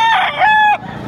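An eight-month-old Pumpkin Hatch gamecock at a Padre Garcia, Batangas market crows once, loud and close, a single sustained call that cuts off abruptly into faint background noise.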